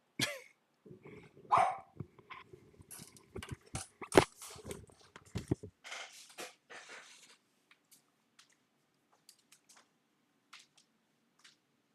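A dog barks in a rapid burst of loud, close woofs with growly coughs over the first six seconds, stirred up by another dog outside, then only scattered faint knocks over near silence.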